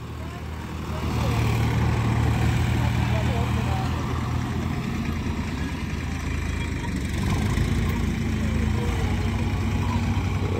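A tractor engine runs steadily at a worksite where trolleys of soil are being hauled, a continuous low rumbling drone held near and fairly loud for the whole stretch, with voices faintly underneath.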